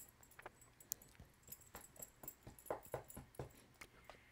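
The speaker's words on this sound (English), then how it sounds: "Dog's being a little weirdo over here in my bed." A dog shifts around on a bed with faint, soft rustles, scratchy thumps and a light jingle of tags, scattered irregularly and quiet against a low room hum.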